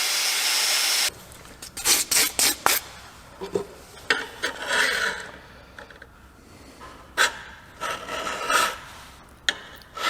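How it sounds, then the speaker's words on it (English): Hand filing of bevels on a forged hunting knife blank: repeated rasping strokes, close and loud, in uneven bursts after a brief hiss, each stroke a gritty scrape of file on steel. "when it comes to making the bevels, it's filing. Lots and lots of filing"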